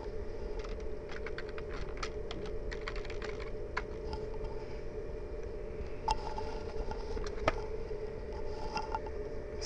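Rapid clicking of keys on a computer keyboard as a name is entered into a spreadsheet cell in Excel, steady uneven keystrokes close up over a constant low background hum, with no talking.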